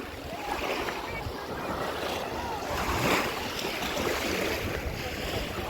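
Steady roar of Black Sea surf at Chornomorsk, Ukraine, with wind buffeting the microphone, a wave swelling louder midway before settling back into continuous rushing noise.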